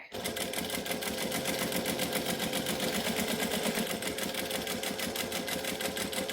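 A sewing machine stitches a clear plastic pouch in a steady, fast, even run of needle strokes that fills the whole stretch at close range, with no voices.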